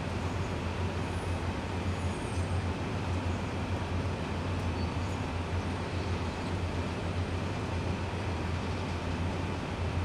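Simulated train running in Train Sim World, a continuous steady rumble with low engine drone and rolling noise, no voices.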